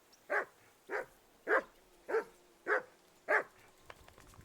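A dog in the video game Kingdom Come: Deliverance II barks six times at an even, roughly half-second rhythm, each bark clear and mid-distance with a quiet pause after the last.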